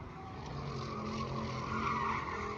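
Car doing a burnout at SEMA, tires skidding in a long continuous screech over engine roar, loud and sustained with no talking.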